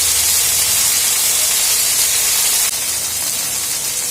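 Onion and garlic frying in oil with cumin and coriander powder, a loud, continuous close-up hiss that stays even throughout with a slight drop near the end.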